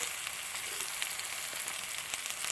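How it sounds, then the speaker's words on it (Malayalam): Sliced onions frying in a pan with a soft, steady sizzle and light crackles, broken by occasional faint stirring scrapes, no voices. "ഇനി നന്നായിട്ടൊന്ന് ഇളക്കി കൊടുക്കുക."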